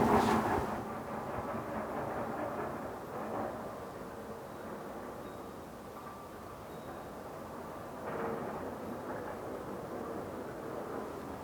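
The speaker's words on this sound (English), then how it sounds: "I guess presumably freight trains go slower when they're in residential areas too." A freight train passes through a residential area in Japan, heard as a faint, continuous low rumble and rolling clatter with no speech over it.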